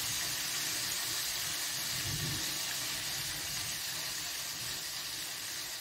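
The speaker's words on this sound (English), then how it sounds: "Sizzle, sizzle, sizzle." Breaded country fried steak sizzles in a pan over a medium-low flame, a steady bright hiss that holds evenly throughout with only faint low rumbles beneath.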